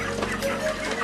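Broiler chickens cluck steadily at close range on a poultry farm as the birds are being weighed, a dense, continuous stretch of fowl calls with no talking over it.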